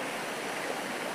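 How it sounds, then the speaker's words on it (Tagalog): A cold river in the mountains flows steadily, producing a continuous, even rushing wash of water that stays faint and unbroken for the whole short stretch. "Napakaganda, mga ka-Jebels, ang ilog dito."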